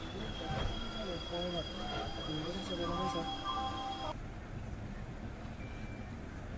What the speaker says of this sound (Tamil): ஸோ நம்ம வண்டி வந்து ஆன் டைமில் ஜோலார்பேட்டை ஜங்ஷனுக்குள்ளே அரைவல் ஆகிட்டு இருக்குங்க.